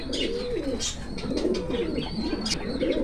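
Yellow-eyed Rampuri and Rajshahi Giribaz high-flying pigeons coo in a loft, repeated throaty rolling calls close by with a few sharp chirps mixed in.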